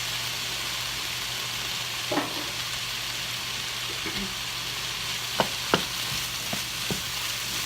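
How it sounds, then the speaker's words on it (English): Mushrooms sauté in a pan with a steady, close frying hiss, broken by a handful of faint spatula taps and scrapes. "you don't have to kill the mushrooms sauteing them"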